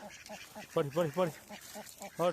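Several ducks quack in quick bursts, some loud and close, others fainter, with a steady murmur behind them.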